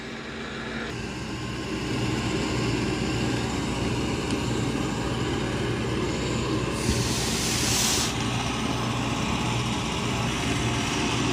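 Dreame L10S Ultra robot vacuum running on a floor, a steady broadband whir with a low hum, continuous and fairly loud, with a brief brighter hiss burst partway through and no talk.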